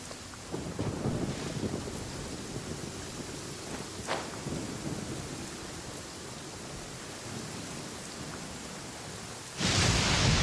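Rain and thunder in the video game Genshin Impact: a steady downpour hisses throughout, with a rumble and a sharp crack near the middle, then a sudden louder surge of rain at the end.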